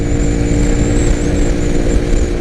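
A Mahindra Mojo 300 ABS BS6 motorcycle engine droning steadily at cruising speed in sixth gear, loud and close with a constant hum, wind rush and a thin high whine.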